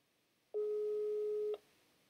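A single steady electronic telephone tone on an information line sounds for about one second, clean and moderately loud against faint background hiss.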